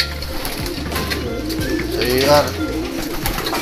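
Racing pigeons arriving at a loft during a Sunday training race, with soft cooing and brief wing sounds beneath someone talking throughout in Filipino.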